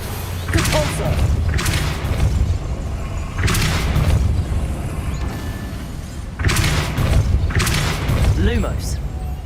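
The Depulso repelling spell in Hogwarts Legacy lands as repeated heavy whooshing thumps, three or four loud bursts in an uneven rhythm over a steady background hum, with a voice speaking briefly alongside.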